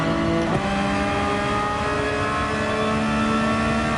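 A Porsche 911 GT3 racing in Gran Turismo 7, its engine holding a loud, steady drone throughout with a brief gear-change dip early on and no talk.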